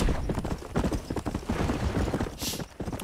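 Hooves of a golden Kentucky Saddler horse clip-clop in a quick, rhythmic trot across ground in Red Dead Redemption, close and fairly loud, with a brief hiss partway through.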